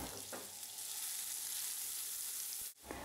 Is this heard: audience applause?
no